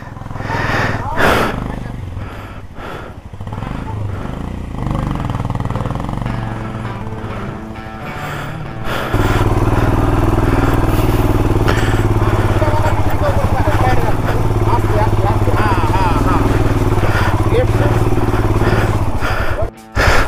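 A motorcycle rides off-road through a muddy farm field on the trail to Sandakphu in Nepal. Its engine revs and sputters nearby, then becomes a loud, steady roar about halfway through, with voices faintly mixed in.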